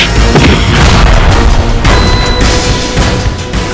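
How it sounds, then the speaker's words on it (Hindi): A loud, booming explosion with crashing, rumbling debris that fills the whole moment, dense and close. "एक धमाका और सारा बनारस थर्रा उठी।"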